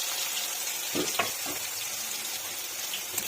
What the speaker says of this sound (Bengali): কড়াইতে আবার তেল দিয়ে দিয়েছি বন্ধুরা তেল দিয়ে আমি আলুগুলো ভেজে নেবো